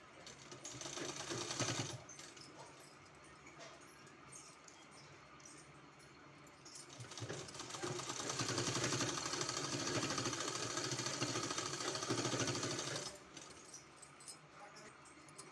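Sewing machine stitching a decorative hem design onto a kurti, running in steady continuous bursts that swell louder through the middle and ease off near the end, with no talking.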